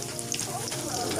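Garlic frying in plenty of oil: a dense, continuous crackling sizzle with small pops, close and steady throughout.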